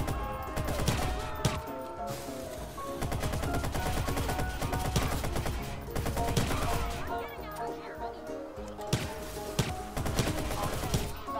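AK assault rifle fire in Watch Dogs, rapid automatic bursts rattling nearly continuously at moderate loudness amid other game noise and some talk.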